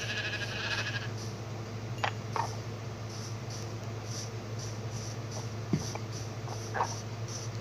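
Sheep in Minecraft bleating a few times, short faint calls scattered over a steady low game background hum.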